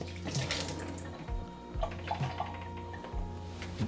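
Water from the drip tray of a Breville Barista Express espresso machine is poured out, splashing and trickling unevenly in a few short gushes and drips nearby.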